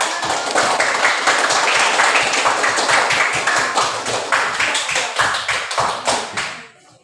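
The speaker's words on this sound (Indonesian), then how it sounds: "Beri tepuk tangan." Classroom applause as a group of students claps their hands together, a dense and steady patter of close claps lasting several seconds before it tapers off and stops.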